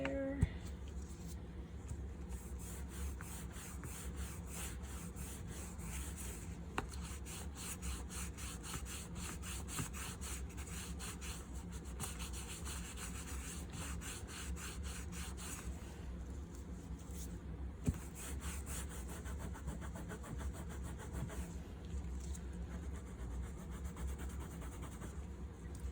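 Steady, continuous scrubbing against an old leather wallet to lift a stain, a dry rubbing texture that keeps an even pace throughout with no voices.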